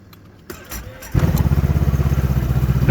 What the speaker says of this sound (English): and then we're going to start the engine.